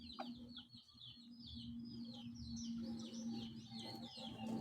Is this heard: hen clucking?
yes